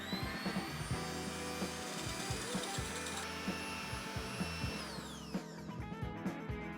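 An electric mixer whisks egg whites with cream of tartar on a low setting, giving a close, steady motor whine with rhythmic clattering of beaters against the bowl and a pitch drop near the end.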